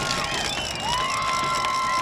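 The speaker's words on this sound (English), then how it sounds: "you can hear the crowd making some noise." Crowd noise at a Ridgeline versus Mountain Crest high school football game: a broad, distant murmur of spectators with rising cheers and shouts, plus whistle-like tones sliding through, moderately quiet throughout.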